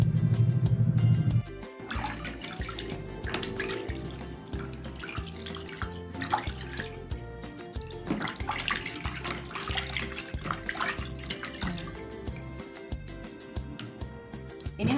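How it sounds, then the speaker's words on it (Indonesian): Hands, one with a cosmetic cover over vitiligo on the fingers, are washed under running water, giving continuous splashing and trickling water that rises and falls over a low music bed. "Sekarang kita akan lihat bagaimana tangan yang sudah kita cover tadi, kita bawa cuci tangan menggunakan sabun maupun tidak."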